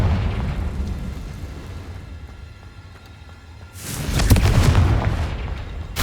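Confringo explosive spell fired in Hogwarts Legacy inside a cave: a low rumbling bed gives way to a loud, close blast with a broad crackling burst lasting about a second, then a lingering fizzing tail.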